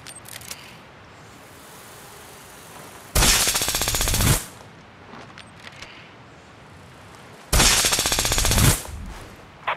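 Automatic gunfire rings out during a Ghost Recon Breakpoint PvP match: two loud, sustained bursts of rapid shots, each lasting over a second, separated by quieter game ambience with faint scattered clicks.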